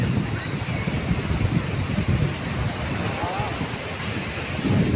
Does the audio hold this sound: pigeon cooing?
no